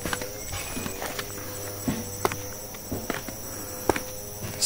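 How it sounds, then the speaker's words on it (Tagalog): Crickets and other insects chirp in a steady, faint high drone among dense trees at night at a Tierra Verde campsite in Infanta, Quezon, with scattered soft knocks and footstep-like clops nearby. "naririnig rin po yung mga kuliglig"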